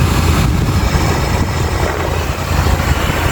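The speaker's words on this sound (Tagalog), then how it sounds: "Malakas na ang ating aircon." A loud, steady mechanical whoosh of a Nissan Sentra N16 air conditioner blower fan running continuously after motor replacement, a dense broadband roar with no pauses or voices.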